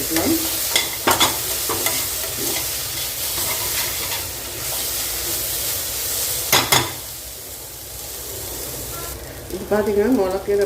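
Amaranth greens stir-fried in a little oil over low heat, a steady close sizzle with scraping stirs and occasional sharp clatters, a brief murmur of talk near the end.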